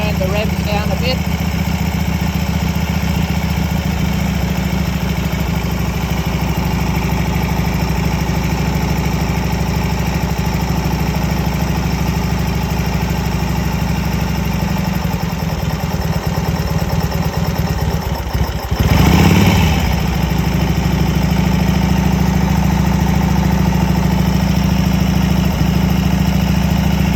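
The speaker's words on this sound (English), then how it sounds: "just speaking over the noise of the engine" A 1934 Indian Standard Scout motorcycle engine idles in a steady, loud, continuous low rumble with an even throbbing beat throughout, and a voice talks over it.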